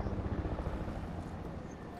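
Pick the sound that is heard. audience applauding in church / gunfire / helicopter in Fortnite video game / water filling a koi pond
helicopter in Fortnite video game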